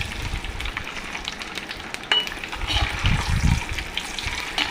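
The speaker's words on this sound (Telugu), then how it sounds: "చూడండి నేను చూపిస్తున్న విధంగా ఫ్రై చేసేసుకోవాలి" Eggs fry in hot oil in a pan while an egg curry is being made, giving a soft, continuous sizzle with a few brief crackles and clatters, alone without talk.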